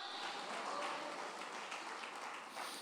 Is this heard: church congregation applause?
yes